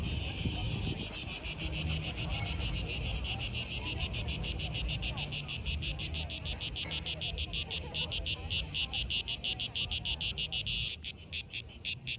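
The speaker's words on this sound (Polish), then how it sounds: "Tam są cykady." Cicadas buzz steadily in Athens heat above 40 degrees, a loud, pulsing drone throughout, rhythmic and continuous, with faint outdoor noise beneath.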